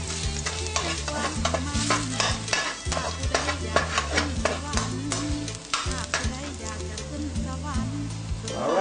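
Garlic stir-fried in a pan for sweet and sour pork gives a dense, continuous sizzle with scraping stirs, heard under a steady music track.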